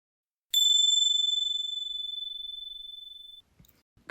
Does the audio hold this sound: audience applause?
no